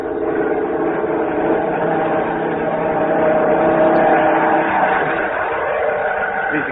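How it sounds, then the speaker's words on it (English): A droning aircraft engine, a German plane passing overhead as a radio-drama effect, holds a steady, muffled roar that swells slightly mid-way before easing, with no voices. "Listen. German plane."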